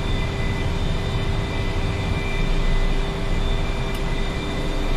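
A heavily loaded jet aircraft taking off in a combat flight game over Vietnam: a steady, loud engine roar with a high whine running unbroken throughout.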